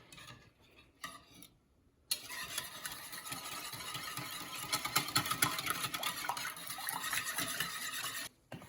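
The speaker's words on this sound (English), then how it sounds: "I'm gonna do 1 egg. All right, whisk that up." One egg being whisked in a bowl for country fried chicken batter, a fast steady ticking of whisk against the bowl running for several seconds, close and fairly loud, with no talk over it.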